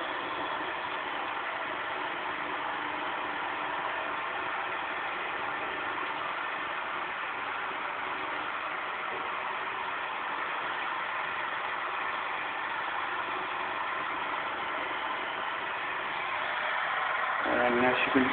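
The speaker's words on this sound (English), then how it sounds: "motor turning nice and bright, flashing sparks at the commutator." A small homemade Newman motor powered by four 9-volt batteries whirs steadily and continuously with a bright, noisy buzz from the sparking commutator, swelling slightly in the last second.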